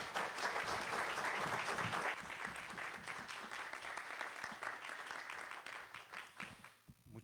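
Steady applause from a conference audience welcoming a speaker to a criminal law lecture, a dense wash of many hands clapping that fades slightly toward the end.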